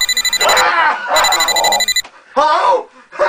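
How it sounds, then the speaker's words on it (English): Cell phone ringing with a loud, close electronic tone in repeated bursts, with a shouting voice between the rings. "The phone is ringing!"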